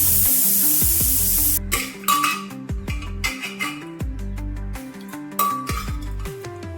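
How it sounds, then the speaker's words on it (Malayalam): A spoon clinks and scrapes rhythmically in a cooker as a chicken mixture with salt, turmeric and water is stirred, the close metallic knocks repeating in short bursts, after a brief hiss at the start, with no voices. "ഒന്ന് മിക്സ് ചെയ്ത് കൊടുക്കാം."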